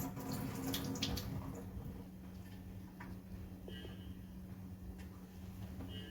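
Cowpeas get rinsed in water to wash off loose husks, soft splashing and trickling close by, with faint clinks and a low steady hum beneath.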